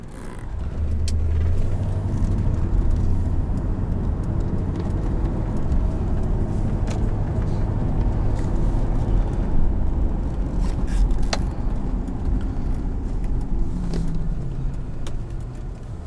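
A 1988 Mercedes-Benz 560SL drives along with a steady low engine drone and road rumble heard from inside the cabin, engine pitch shifting slightly as speed changes, no talking.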